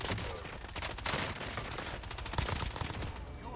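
Rapid bursts of gunfire from a weapon in the video game Apex Legends, dense overlapping shots and impacts with explosive game effects filling the whole stretch, loud and continuous.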